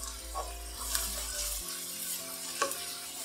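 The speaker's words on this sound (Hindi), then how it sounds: "अब इसमें हम डाल देंगे अदरक लहसुन का पेस्ट" Ginger garlic paste hits hot oil and golden-brown fried onions in a pan for Balti chicken, giving a steady bright sizzle with stirring scrapes, a few louder spatters and a low hum that stops partway.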